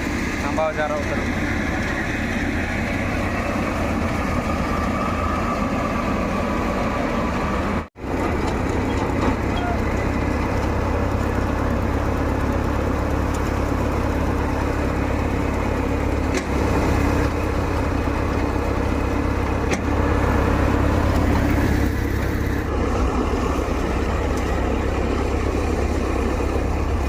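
A tractor engine idles and rumbles without a break in a rural Odisha village. The low, constant drone runs throughout, with a brief dropout, and people's voices can be heard faintly under the engine noise.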